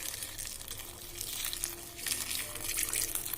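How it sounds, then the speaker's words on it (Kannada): Hot water pours steadily into a basket of dried red chillies, a continuous close splashing gush with light crinkling. "ಮೆಣಸಿನ್ಕಾಯಿ ಮುಳುಗುವಷ್ಟು ಬಿಸಿನೀರು ಹಾಕೋಣ"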